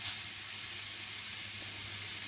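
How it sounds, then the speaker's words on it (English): Beef mince browns in a frying pan, giving a steady, close hiss and sizzle with no talking. "So we just want to brown the mince for about 5 minutes"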